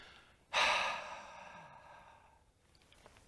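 One forceful, breathy exhalation pushed from the throat, loud at first and trailing off slowly, close and alone.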